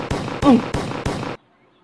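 Four rapid, loud, sharp blasts in quick succession from a thrown grenade going off in a game, followed by abrupt silence; a voice is briefly audible within the bursts.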